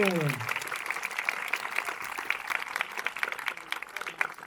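Applause from school students for visiting guests and their teachers, a dense run of claps that follows a brief voice at the start and carries on steadily at moderate level.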